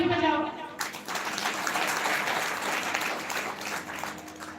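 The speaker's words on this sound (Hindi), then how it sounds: "अपने लिए ताली बजाओ।" An audience at a live religious gathering bursts into loud, sustained applause right after a voice speaks, with many hands clapping together in a dense roar that holds steady for several seconds.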